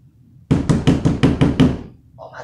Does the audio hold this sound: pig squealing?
no